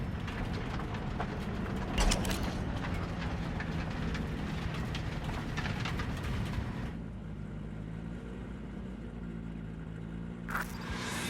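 Train rumbling steadily along in a Cyberpunk 2077 scene, a continuous loud roar with clattering wheel noise, a brief metallic clank early on and the sound thinning slightly toward the end.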